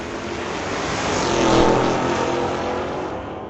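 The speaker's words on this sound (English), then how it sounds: "Sylvia in the 66 Ford Mustang. She left first." Drag race cars, one a 1966 Ford Mustang, launch at an old-time drag strip: a loud broadband engine roar that swells to a peak mid-clip and then eases off, heard from nearby with no voices.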